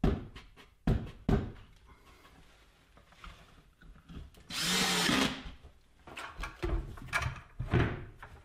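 Power drill driving 1.25 inch coarse pocket hole screws into glued wooden shop vac cyclone separator parts, a short close whirring burst amid scattered clunks and knocks of handling wood.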